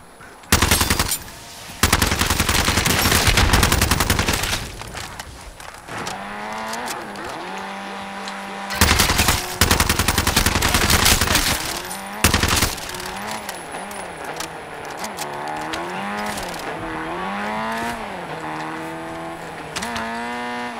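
Gunfire in Modern Warfare 3 Zombies comes as loud bursts of automatic fire that alternate with stretches of revving vehicle engine tones, repeated across the whole span without speech.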